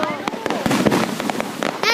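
Fireworks crackle and pop over Hilo Bay on the 4th of July in a quick, uneven string of bursts, with voices talking underneath.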